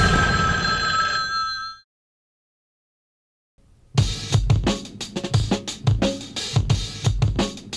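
A telephone rings for a call, a bright electronic ring that stops abruptly, then a brief silence before dense broadcast sound and talking begin.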